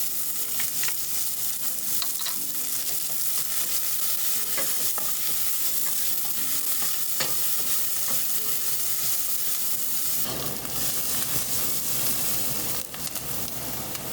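Chopped onion and ginger frying in a hot pan, a dense continuous sizzle with occasional stirring scrapes, close and loud throughout.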